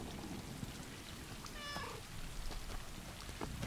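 A cat in the video game Stray gives one short, clear meow in the middle, set against a steady patter of rain that runs throughout.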